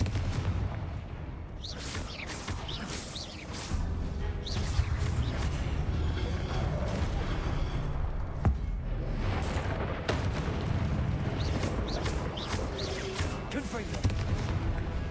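Repeated Confringo fire-spell blasts and booming combat impacts in the Hogwarts Legacy video game, loud and continuous over a busy battle mix, with a voice shouting spell names throughout.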